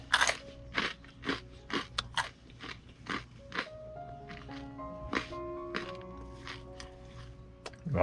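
Crunchy bites and chewing of cream cheese toast at a breakfast, with a string of crisp crunches coming one after another close to the mic, while quiet background voices murmur in the background.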